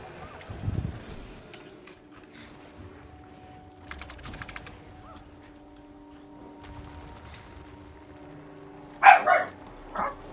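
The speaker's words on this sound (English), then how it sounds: "Oh, there's our dog." A dog barks in the Guild Wars 2 video game, a short burst of barks near the end over soft keyboard typing and a quiet background, with faint voices earlier.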